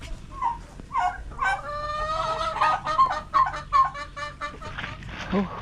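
Native chickens on a farm clucking and calling repeatedly, with tonal, rising calls and short bursts close by, fairly loud, and a faint voice underneath.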